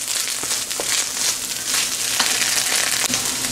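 Vegetable egg fried rice being stirred in a frying pan, with a steady close sizzle and intermittent scraping clinks of the spatula against the pan, no talk.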